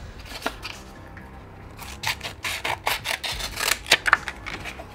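Filing and sanding of a Forge World model part, scratchy rasping strokes that start sparse and grow into a quick, irregular series of close, crisp scrapes, no one speaking.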